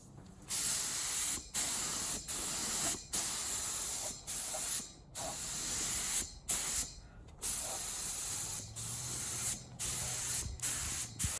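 Short bursts of hissing from a spray can applying clear coat over base coat in a car's engine bay repeat in a steady rhythm, each pass separated by brief pauses, close and fairly loud.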